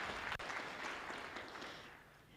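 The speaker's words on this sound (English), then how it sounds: "deserves a round of applause." Audience applause at a California Water Plan advisory committee meeting, a brief, faint, even patter of clapping from a small room that fades out within a couple of seconds.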